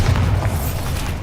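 A Bombarda spell blast in Hogwarts Legacy while clearing spider sacks: a short, loud, deep boom with a rumbling body that fades slightly over about a second.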